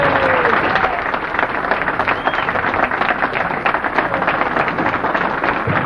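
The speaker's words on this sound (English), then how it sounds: "I want to thank you for that nice round of applause" Sustained, dense applause from a large audience giving a standing ovation, steady and loud throughout with a continuous wash of many hands clapping and faint crowd murmur.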